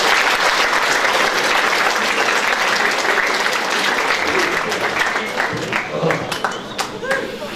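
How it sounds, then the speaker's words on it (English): An audience at a junior prize giving applauds a guest speaker, dense steady clapping that fills the room loudly and then thins toward the end, with a voice faintly underneath. "please give a round of applause for our guest speaker"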